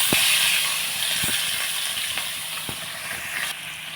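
Onions and green chilies are added to a hot pan with eggs and fry with a steady hiss and sizzle. Occasional faint clinks of utensils sound against the pan.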